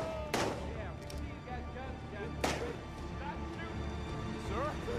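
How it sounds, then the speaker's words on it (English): Gunfire in the open-world video game Days Gone, two sharp shots about two seconds apart standing out over a steady rumbling game backdrop, with voices talking underneath. "Stop shooting."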